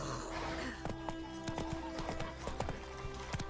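Roach, Geralt's horse in The Witcher 3: Wild Hunt, hoofbeats clip-clopping in a steady repeated rhythm at close range, accompanied by a low game ambience and no talk.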